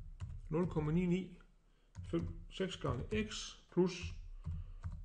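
Typing on a computer keyboard while entering figures into a spreadsheet regression in Geogebra, quiet clustered key clicks in short bursts under someone speaking Danish throughout.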